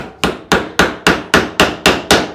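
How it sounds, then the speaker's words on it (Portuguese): Nails driven into pallet wood for a small stool: nine sharp, loud hammer blows in a steady, quick rhythm, each ringing briefly before the next strike, close up and without speech. "Eu tô unindo o meu com prego porque é aula, você sabe."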